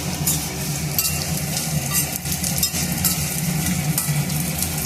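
Semiya and raisins being stirred together in a pan, a steady scraping, rustling stir with faint sizzle throughout, close and continuous with no talk.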